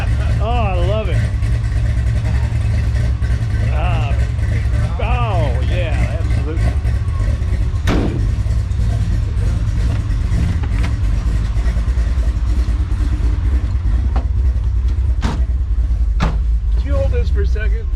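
A 1966 Chevrolet Chevelle's engine idles with a steady, loud rumble throughout, close by, while people talk over it.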